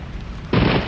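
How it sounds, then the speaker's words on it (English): A deep thunder rumble rolls in and swells suddenly halfway through, loud and close, during a storm outdoors by a swimming area, with no talk. "Can you guys hear the thunder?"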